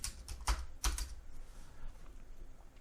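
Typing on a computer keyboard: a few quick, close key clicks in a short cluster, then quieter scattered taps in a calm room.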